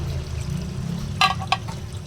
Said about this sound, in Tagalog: Okay, lagyan natin ng tubig.